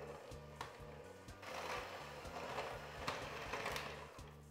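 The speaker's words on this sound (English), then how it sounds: "I like to switch over to using my electric mixer just to make the job a little bit easier" An electric mixer whirs steadily through spice cake batter, its motor droning with a rhythmic, slightly rattling pulse as the beaters work the bowl, close and fairly quiet with no talking.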